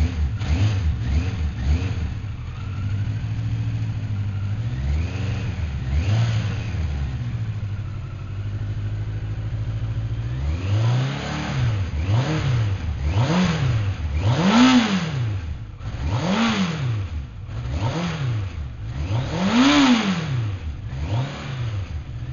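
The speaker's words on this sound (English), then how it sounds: "Enough revs for an engine that hasn't been started for a while." A Yamaha FJ1200 ABS motorcycle engine, not run for a while, idles and then is revved repeatedly, each blip rising and falling in a regular series of close, loud revs after a steady idle, with no talking.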